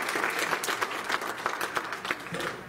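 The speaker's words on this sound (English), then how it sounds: "Go ahead and give the Lord another hand clap." A church congregation claps their hands in praise during a Pentecost service, a brief, even burst of many hands at moderate volume with no voices over it.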